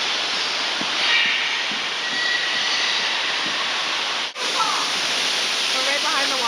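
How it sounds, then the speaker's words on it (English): Niagara waterfall roaring, heard from right behind the falling water, a dense continuous rushing wash that stays loud throughout with one brief dip. "We're right behind the waterfall."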